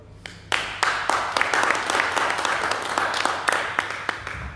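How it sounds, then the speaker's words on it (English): A church congregation claps hands after a pastor's message, sharp individual claps building into steady, moderately loud applause with distinct hand strikes standing out. "Can we clap hands for that?"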